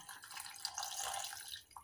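Cold water pours into a pot of green lentils in a soft, faint splashing trickle that runs briefly and then tapers off, with no one talking.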